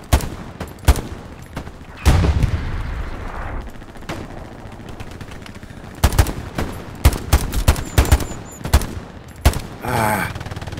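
Rapid gunfire in the World War II shooter Hell Let Loose: loud, sharp single shots and short bursts crack out irregularly over a low battlefield rumble, with a quicker clustered volley near the end.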